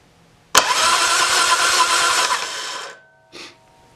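A Harley-Davidson Twin-Cam motorcycle engine cranks over loudly for about two and a half seconds without catching, a steady churning starter drone that cuts off, followed by a brief second burst of cranking.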